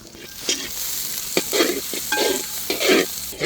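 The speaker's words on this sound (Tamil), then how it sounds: "வெறும் வெங்காயம் பச்சை மிளகா மட்டும் கொஞ்சம் லைட்டாக அந்த எண்ணெயில் வதங்கினா போதும்" Onions and green chillies sauté in hot oil for an Andhra-style chilli crab, a loud close sizzle broken by several scraping stirs of a spoon against the pan, with no voices.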